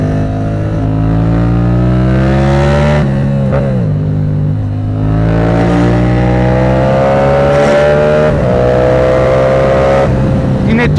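A small motorbike engine revs hard and steadily close by, its pitch climbing and dropping through several throttle swells.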